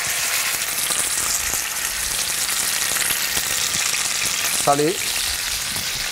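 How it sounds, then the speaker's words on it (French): Pork tenderloin sears in a hot cast-iron pot, giving a steady close sizzle and crackle throughout. A brief voice speaks near the end. "on le met dans une cocotte en fonte bien chaude"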